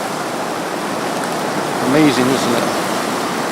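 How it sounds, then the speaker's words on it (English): Steady broadband surf from the Pacific Ocean at Naalehu, Hawaii rushes continuously, with someone briefly speaking over it midway. "So this is Hawaii, and that's the Pacific Ocean."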